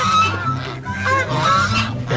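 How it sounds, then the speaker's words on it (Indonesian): A goose honks repeatedly in a loud, close series of nasal, brassy calls that run through the whole moment without pause. "Wow, si cantik angsa teman-teman."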